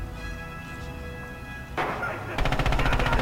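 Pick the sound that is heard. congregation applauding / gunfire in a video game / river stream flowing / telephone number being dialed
gunfire in a video game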